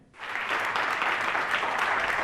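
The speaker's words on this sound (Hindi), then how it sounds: "आपकी जोरदार तालियों के बीच में" Audience at a Hindi kavi sammelan (poetry gathering) bursts into loud, sustained applause welcoming a poet, rising quickly and holding steady as a dense wash of clapping with no talk.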